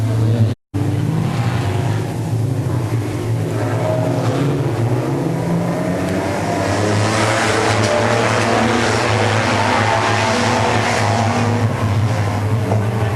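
Street stock race cars roar in a loud, continuous engine drone as a race restarts, the pitch swelling and shifting as the pack accelerates away together with no gaps.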